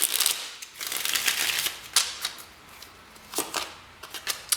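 Tarot cards being shuffled by hand in a pick-a-card reading, a run of crisp, papery riffles and slaps in irregular bursts, close and moderately quiet with no talking.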